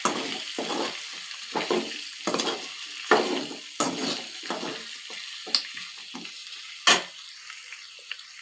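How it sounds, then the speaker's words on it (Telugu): Chicken tossed into hot oil in a pan sizzles in a series of short bursts, with clattering stirs and scrapes coming every second or so, close and fairly loud, and no voices. "మనము ఇందులో ఆల్రెడీ మనం సైడ్కి తీసి పెట్టుకున్న చికెన్ని వేసేయాలి"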